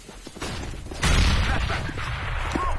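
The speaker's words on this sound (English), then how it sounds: "I'm throwing a flashbang." A flashbang grenade goes off in the game Counter-Strike: Global Offensive, a sudden loud burst followed by a sustained ringing wash amid in-game background noise.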